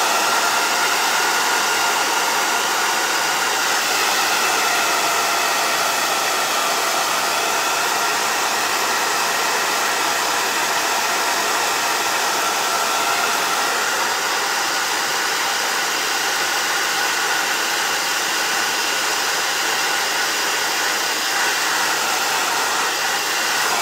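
A hair dryer blows steadily on a rustic soup can vase to dry it, a loud continuous close whir with an even airy hiss lasting throughout, no voices.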